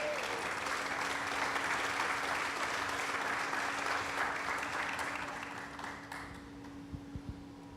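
A church congregation applauds in a steady, dense wash of clapping that fills the space, then thins and fades toward the end, leaving a few stray claps.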